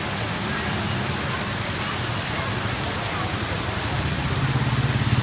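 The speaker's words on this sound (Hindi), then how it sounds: "बारिश में फुल जोर" Heavy monsoon-season rain pours down in a dense, steady hiss of drops on surfaces, with a low rumble swelling toward the end.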